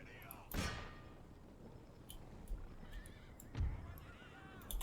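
Horses whinny in the Empire: Total War battle game, two loud neighs about three seconds apart over a low din of hooves and distant battle noise.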